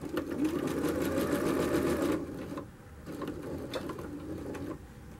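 A sewing machine stitching the hem of a tulle skirt, running in a fast steady whir for two seconds, then in shorter, quieter bursts as it reverse stitches.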